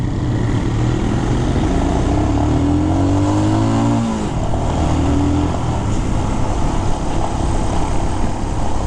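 A Royal Enfield Himalayan Scram 411 with a 5-speed gearbox pulls away on a test ride, its single-cylinder engine rising in pitch through a gear, dipping at the shift, then settling into a loud steady drone under wind noise.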